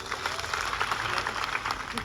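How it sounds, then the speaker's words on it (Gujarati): Crowd clapping at an outdoor political rally in Santrampur, Gujarat, a dense steady wash of applause from many hands running throughout, mixed with voices. "એકવાર જોરદાર આપણે તાળીઓ પાડી લઈશું"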